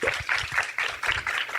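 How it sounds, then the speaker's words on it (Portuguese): Clapping from a lecture audience at a holistic event, welcoming a speaker on guided imagination. It comes in uneven bursts of moderate loudness with short gaps between them over a brief stretch. "Então, por favor, recebam com uma salva de palmas."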